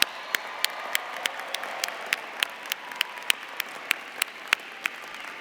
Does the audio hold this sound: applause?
yes